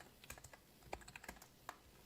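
Code being typed on a computer keyboard: quiet, close, irregular clicking keystrokes in short bursts with one slightly heavier key press, no talk over it.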